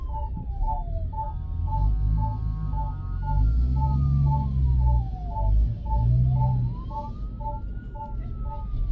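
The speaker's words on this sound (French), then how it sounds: "vous entendez la sirène des sapeurs-pompiers" A sapeurs-pompiers fire engine siren wails in a street, rising and falling alongside a fast repeating two-tone pattern, loud over rumbling traffic and crowd noise.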